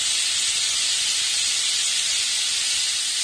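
Pressure cooker whistling as it releases steam while cooking moong dal pulav, a loud continuous high hiss holding steady for the whole stretch with no talk over it.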